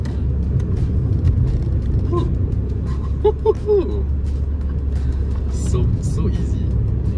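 Steady low engine and road rumble from a 2023 Volkswagen Golf Mild Hybrid R-Line, a front-wheel-drive car, driven through an S-curve in Singapore, with faint tyre and cabin noise and a voice talking over it throughout.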